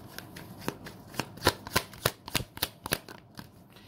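Tarot cards being shuffled by hand in a quiet room, a run of crisp riffling flicks and slaps in an uneven rhythm, close and fairly soft, with no talking.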